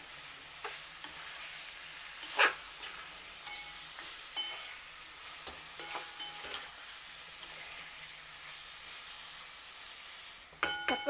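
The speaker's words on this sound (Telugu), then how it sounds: "చక్కగా వేగుతోంది చూశారు కదా మనం వేసిన చింతపండు బెల్లంతో పాకంలాగా వచ్చి చక్కగా ఉంది" A curry of tamarind and jaggery fries in oil, giving a soft, steady sizzle and hiss, with occasional stirring scrapes and clinks of the spoon against the pan.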